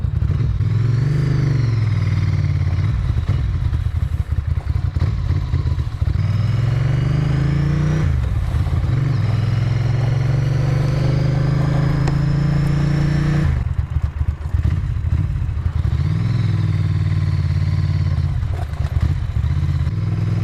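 A Ducati 750 SS motorcycle engine runs loud and close, idling with a steady low rumble and rising in several revs before settling back.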